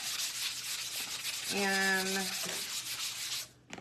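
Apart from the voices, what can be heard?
sanding painted wood with a sanding block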